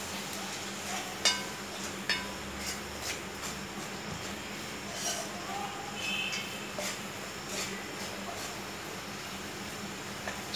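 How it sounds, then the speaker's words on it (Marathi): Masala spices with turmeric and red chilli powder frying in oil for an Aagri crab curry, a steady low sizzle with occasional scraping stirs and faint clinks of a spoon against the pan. "छान भाजून घ्यायचं तेलामध्ये मसाला."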